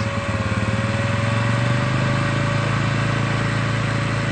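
A small engine runs steadily and loudly throughout at a freshwater prawn pond, a continuous droning hum with a rough, pulsing low rumble and no voices.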